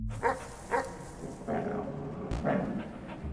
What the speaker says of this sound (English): There are a good number of dogs in Animal Well, and man's best friend is quite aggressive here.